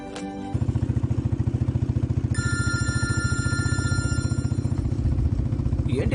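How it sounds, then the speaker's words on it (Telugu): A telephone rings late at night with a fast, pulsing electronic buzz repeating steadily and loud, and a higher melodic ringtone tone layered over it partway through, with no voices. "ఏంటి అర్ధరాత్రి అప్పుడు నాన్న ఫోన్ చేస్తున్నారు?"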